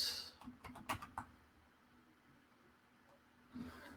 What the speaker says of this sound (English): So you would just type that in.